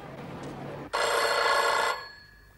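A telephone rings once in a home, a single loud electronic bell burst lasting about a second that cuts off abruptly, following faint background noise and low murmuring.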